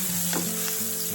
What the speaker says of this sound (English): So that bacon is about halfway cooked. Now is when I want to put in this diced up onion.